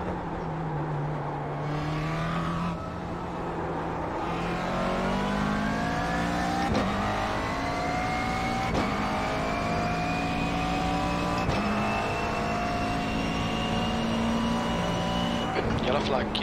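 A McLaren GT3 race car on the Nordschleife in iRacing roars close up, its engine pitch climbing through the gears with sharp shift breaks, and a voice speaks over it at times.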